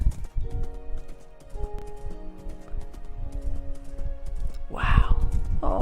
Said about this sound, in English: a cute horse